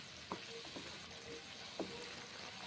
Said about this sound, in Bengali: নেড়ে চেড়ে কষে কষে রান্না করছি মটরশুঁটির দম।